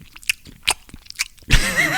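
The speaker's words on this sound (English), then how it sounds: "I can't stand when people chew with their mouth open." Someone chews with their mouth open, giving a string of wet, smacking bites at irregular intervals before a louder, fuller burst of squelching noise toward the end.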